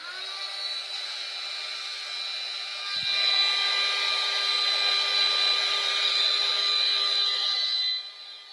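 A hair dryer blows steadily on a journal page, a loud, close, continuous high whine that shifts pitch slightly partway through before cutting off near the end.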